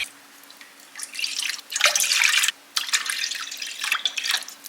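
Water from a tap splashes into a pot of rice in bursts, pausing briefly midway before running again, close and fairly loud.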